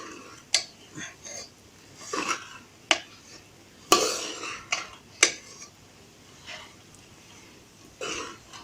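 Chicken fried rice stirred in a pan with a spatula, giving sharp irregular scrapes and clinks against the metal, spaced a second or so apart, over a quiet background.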